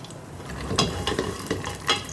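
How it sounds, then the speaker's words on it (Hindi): Potatoes and badiyan fry in oil, a steady close sizzle broken by a few louder scraping stirs, with no voices over it. "इसको फ्राई करूँगी थोड़ी देर, ताकि अच्छे से ये फ्राई हो जाए।"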